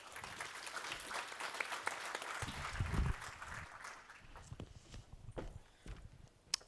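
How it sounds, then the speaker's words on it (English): An audience at a sustainability conference applauds the panelists. The clapping is fairly faint and distant, swells briefly, then thins into scattered claps. "Round of applause to the panelists once again."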